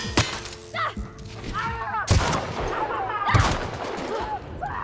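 Gunfire from a gun in the video game The Outer Worlds: several sharp, punchy shots with ringing, whooshing effects and impact thuds, spaced about a second apart, close and loud.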